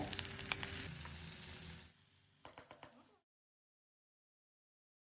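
A flipped mackerel fries in oil with curry leaves in a pan, giving a loud sizzling crackle that eases into a softer fizz with a few light taps before falling silent.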